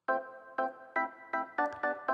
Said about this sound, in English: So that's just another M1 preset, the stab organ.